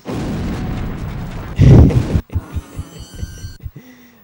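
A bomb goes off in the ninja video game Shinobido on PS2, a heavy booming blast followed by a string of pulsing thuds and a fading hum.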